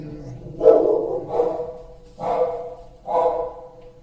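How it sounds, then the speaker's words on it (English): A dog barks four times at a relaxed, uneven pace, moderately close, with the barks standing out alone against a quiet background. "So Lady Lou goes off barking."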